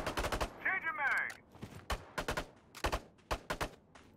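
Rapid bursts of gunfire in the video game CROWZ ring out in loud clusters, with a player talking between and over the shots.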